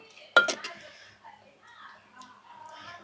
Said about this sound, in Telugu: ఒకసారి మొత్తం తిప్ప తిప్పుకొని చూసుకుందాము